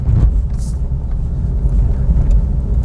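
A car engine labouring steadily in second gear as it pulls up a steep incline, a loud continuous low rumble with throttle held open, while an instructor speaks over it.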